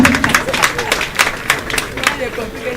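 An audience applauding a female education minister at a public gathering, a short burst of brisk crowd clapping with distinct claps, while a voice speaks over it.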